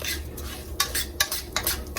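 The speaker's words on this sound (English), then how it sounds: "you're frying the rice, like frying it until it gets like a golden color" Close, scraping strokes of a utensil stirring rice frying in a pan until golden, with sharp metallic scrapes over a faint low sizzle.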